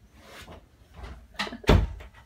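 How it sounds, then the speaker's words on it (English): A house door being shut, heard as a few soft shuffles and creaks followed by a single firm thud, close by and without talking. "I'm going to go close the door really quick."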